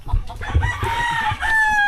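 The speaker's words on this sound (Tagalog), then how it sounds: "Tingnan natin yung mga manok ni Boss Ryan." Close by, a rooster crows a long, rising call while chickens cluck and scratch around it in a busy farmyard.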